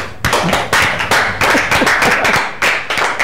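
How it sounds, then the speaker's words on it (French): A group claps in loud, rhythmic bursts, hands striking together in a steady beat with brief pauses between the waves of clapping. "Est-ce que les caïmantines peuvent applaudir?"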